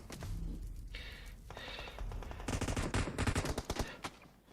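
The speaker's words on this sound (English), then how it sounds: "Dork runs into a wall of gunfire there from Fear and is taken down." Machine gun fire in an online battle royale esports match crackles in rapid dense bursts, loud and sustained toward the end.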